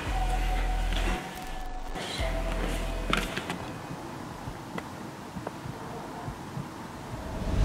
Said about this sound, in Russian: Вначале я реально предположил, что это бьется сердце.